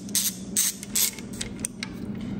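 Close, crisp ratchet clicks in a few short bursts, then quieter handling, as the old cam angle sensor bolt is removed from a Mazda Miata during a 1.8 engine swap. No one speaks.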